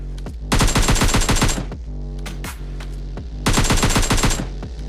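Rapid automatic gunfire in PUBG Lite, two loud, close bursts of fast, evenly spaced shots with a quieter stretch of scattered single shots between them.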